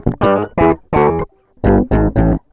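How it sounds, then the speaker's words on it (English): Six distorted bass-heavy notes played in two groups of three, each with a thick, fuzzy lower octave beneath a cleaner upper tone. "send it to the Octaver and only distort the lower octave"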